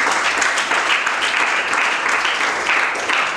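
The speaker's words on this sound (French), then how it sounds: "Acclame le Seigneur Jésus." A church congregation applauding in praise of Jesus, a dense, steady wash of clapping from many hands at close range.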